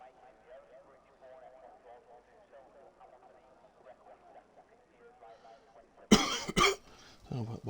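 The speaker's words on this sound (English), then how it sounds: "What would have just been me coughing in the background a lot." Loud coughing bursts out near the end, picked up by a phone, after a stretch of quiet background murmur.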